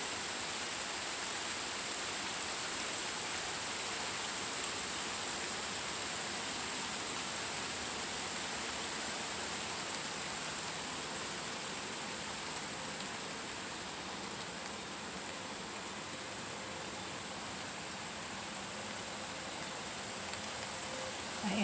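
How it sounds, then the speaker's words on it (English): Rain falls steadily outdoors, a dense, even hiss of drops that continues unbroken at a constant level with no voices. "Looks like there's more rain coming."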